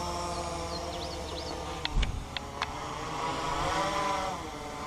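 Motors of a Blade 350QX quadcopter drone whir up at full throttle for takeoff, a sustained steady hum with a few brief clicks midway, close and without speech.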